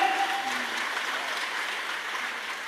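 Large crowd clapping at a Marathi kirtan, the devotional gathering's applause forming a dense, even patter across the whole stretch, with a brief faint tonal trace early on and no speech.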